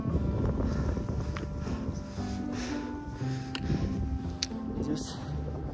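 Wind gusting across a steep mountain trail toward Tilicho Lake in Manang, Nepal, a steady low buffeting rush against the microphone that holds at an even level throughout.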